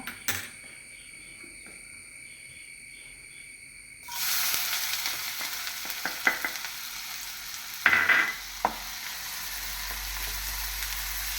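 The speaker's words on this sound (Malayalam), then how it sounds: "അപ്പോൾ ഇപ്പോൾ നമ്മൾ സവോള വരട്ടിയെടുക്കണം." Onions start sizzling in a hot pan after a few quiet seconds, then keep up a steady close hiss broken by a few sharp scraping stirs.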